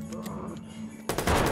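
Gunfire in the Watch Dogs video game: a quieter stretch, then a sudden loud burst of rapid shots near the end.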